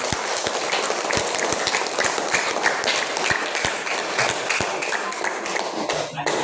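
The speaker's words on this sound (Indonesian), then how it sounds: "mari kita berikan aplaus untuk kita semua" A school audience applauds during an orientation session, steady dense clapping throughout with scattered sharper individual claps standing out, and possible faint voices underneath.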